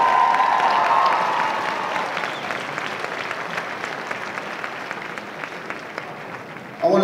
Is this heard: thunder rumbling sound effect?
no